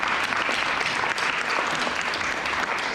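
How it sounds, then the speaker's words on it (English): Guests at a wedding reception applaud loudly and steadily, a dense wash of many hands clapping without a break and no clear speech over it. "a round of applause"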